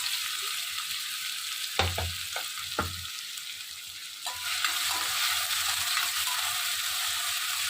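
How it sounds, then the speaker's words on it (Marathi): Finely chopped onion hits hot oil with curry leaves and a green chilli for a spicy Kolhapuri misal: a steady, bright sizzle broken by a few sharp spoon knocks and scrapes partway through. "आता आपण यात कांदा घालूया, बारीक केलेला कांदा"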